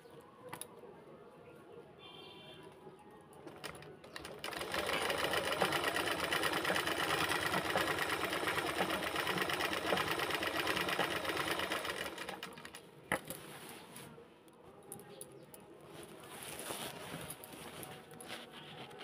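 A sewing machine stitches a fall border onto a saree in a steady, loud run of rapid needle clatter lasting several seconds, with quieter handling and intermittent shorter bursts of stitching before and after.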